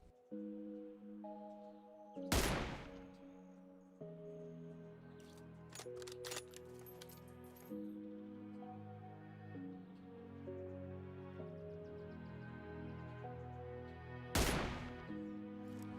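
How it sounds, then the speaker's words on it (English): Sniper rifle shots in a shooting video game, two sharp loud cracks about twelve seconds apart, set against a soft sustained musical background with faint metallic clicks between them. "Here I am shooting from high ground to low ground around 475 meters."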